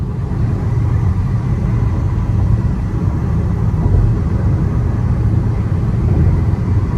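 A car cruises along a highway toward the airport, heard from inside as a steady, loud low rumble of road and engine noise, unbroken and without talk.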